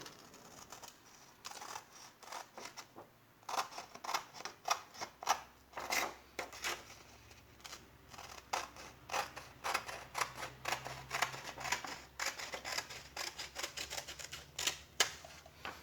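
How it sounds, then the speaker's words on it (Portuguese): Repeated sharp metallic snips and rasps, irregular and close, as a thin steel sheet is cut for round duct fabrication, with a faint low hum underneath. "como eu já tenho a minha suposta chapa de aço, eu já vou até cortar ela aqui"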